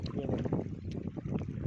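Water waves lap against the shore of a large lake, a steady broadband wash roughened by wind buffeting the microphone, continuous and fairly close throughout.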